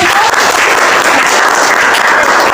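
Classroom students applaud together in a loud, steady, dense burst of clapping that fills the whole moment without pause, with no talking over it.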